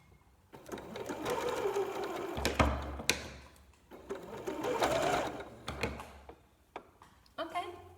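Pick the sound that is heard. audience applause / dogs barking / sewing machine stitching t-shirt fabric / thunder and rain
sewing machine stitching t-shirt fabric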